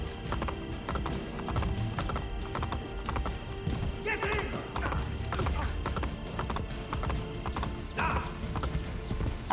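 Rapid hoofbeats of a horse galloping in Assassin's Creed Brotherhood, a steady clip-clop rhythm running throughout with occasional snorts and whinnies over a busy game soundscape.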